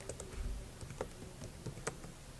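Keys clatter on a computer keyboard as table headings are typed in, with a quiet run of scattered, uneven keystrokes and no talking.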